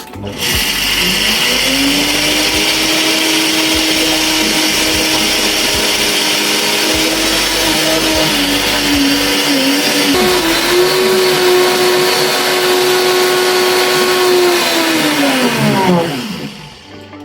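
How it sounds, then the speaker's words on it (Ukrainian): A blender grinding peanuts for peanut butter whirs loudly and continuously for about fifteen seconds, its motor pitch dipping and rising slightly under load before spinning down. "беремо блендер, засипаємо наші горіхи"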